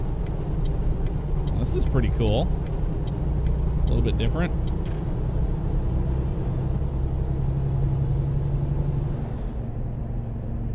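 A steady low engine drone and rumble from a truck climbing uphill in American Truck Simulator, hauling a forest machinery load, continuous throughout while someone talks over it in the first half.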